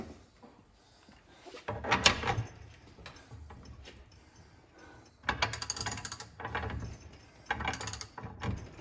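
A ratchet tightens the upper control arm shaft on a 1961–66 Thunderbird, close-up bursts of rapid clicking and metallic clunks in several separate bouts, with quieter handling between them.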